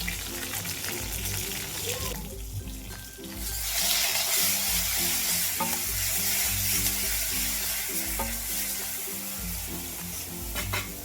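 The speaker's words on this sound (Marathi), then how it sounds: "कढीपत्ता टाकून घेतलाय, त्यानंतर लगेच हिरवी मिरची टाकून घ्यायची आहे" Curry leaves and green chillies hit hot oil in a pan while making village-style pithla, bursting into a loud, continuous crackling sizzle that stays dense and close throughout, with stirring underneath.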